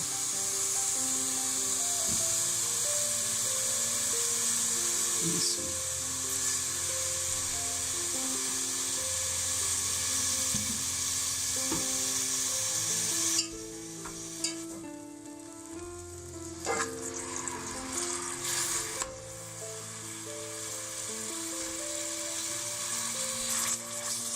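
Onions fry in oil with a steady sizzle and bright hiss, continuous throughout, with some scraping and stirring noises partway through and a low hum underneath.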